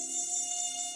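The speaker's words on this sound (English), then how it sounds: "you begin kind of like hearing bugs just kind of flying around you" A steady, thin buzzing of flying insects hovers close by with a constant whining drone, alone without any talking.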